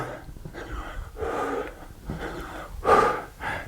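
Heavy, rhythmic breathing during a bodyweight workout with push-ups, several loud close exhales and snorting breaths in a row with no talking.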